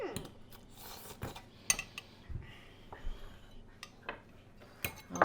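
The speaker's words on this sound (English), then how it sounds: "Mix your pesto into your noodles" Noodles tossed with dead nettle pesto in a bowl, producing scattered light clinks and taps of a utensil against the dish, quiet and irregular, with faint rustling between them.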